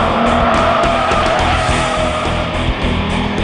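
A car driven hard on a track at over 90 mph, its engine roaring close and loud while the tires squeal and skid continuously across the whole stretch.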